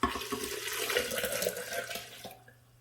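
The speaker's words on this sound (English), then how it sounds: "To that, I'm going to add about 4 cups of water." About four cups of water are poured in a steady rushing stream into a blender, close by, tapering off and stopping near the end.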